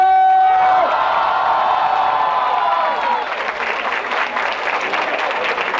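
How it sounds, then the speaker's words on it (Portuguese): A live rap battle crowd at Batalha do Coliseu roars, whistling, cheering and clapping loudly and continuously, a high whistle cutting through at the start before the applause swells and carries on. "Barulho que quem achou que rimou melhor foi Black Panther"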